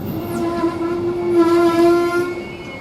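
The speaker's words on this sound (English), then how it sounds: "there's a Thameslink train coming in" A Thameslink train pulls into Peterborough railway station, loud and close, with a steady sustained horn-like tone over a continuous rumble of the moving train, no voices heard.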